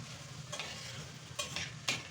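A utensil stirs onion and tomato paste in a pan, with a steady low sizzle underneath and a few brighter scraping strokes spaced out over two seconds.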